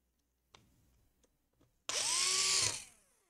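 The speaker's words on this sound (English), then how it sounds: "Now you just screw it down" An electric screwdriver drives a screw during reassembly of a Lenovo Legion Y540 laptop: a few faint taps, then one short, close whirring burst that rises and falls in pitch.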